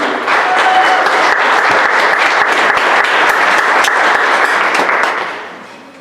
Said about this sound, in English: one more round of applause for our youth